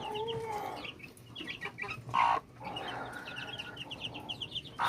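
A hen and her young chicks from a second hatching batch of an old bloodline, soft clucking and high peeping chirps close by, scattered and irregular, with no talking.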